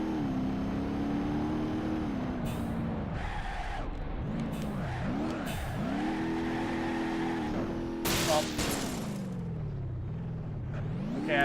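A car engine in the driving game BeamNG.Drive on the Pikes Peak rally course, loud and continuous, rising and falling in pitch as it revs and shifts, with bursts of tire skidding along the way.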